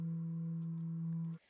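A vocal sample flattened to a single fixed pitch with Melodyne, a steady, buzzy, robotic held note on one pitch for about a second before cutting off abruptly.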